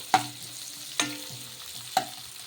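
Onions for poha being stirred in a pan with oil or ghee: three distinct spoon scrapes roughly a second apart over a low, steady sizzle of frying.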